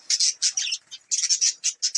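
Small finches and budgerigars chirp in a rapid, continuous run of high, bright tweets and calls, with short gaps between bursts, close by and fairly loud.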